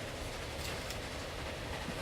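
Train in the Transport Fever video game pulling away with two Bavarian cars attached, a steady broadband rumble of rolling stock and rail noise holding level throughout, no voices.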